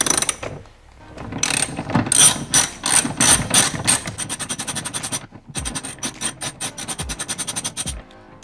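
Ratchet driving a 5 mm Allen bit to undo screws on a Fiat Punto 199 car door during a window regulator replacement: rapid repeated clicking bursts close by, with brief pauses between runs and no voices.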